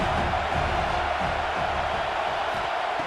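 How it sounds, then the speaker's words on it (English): Stadium crowd in College Football 26 on third down, a steady roaring wall of crowd noise with a faint cheering swell, continuous and fairly loud throughout. "Third down, and the crowd really getting into it"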